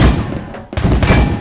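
A gunshot in the survival game Rust, a loud, close single crack after a brief lull, followed by another report within a second, with no talking over it.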